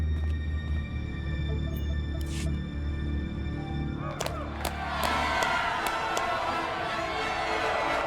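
Arena crowd in Star Wars: The Old Republic, a steady roar of many voices that swells into louder shouts and cheers toward the end, with a few sharp thuds over a low ambient drone.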